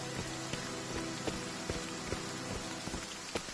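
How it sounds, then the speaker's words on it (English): Rain falls steadily outdoors, a dense constant patter with occasional heavier drops tapping nearby surfaces, with no talking. "It's raining in real life."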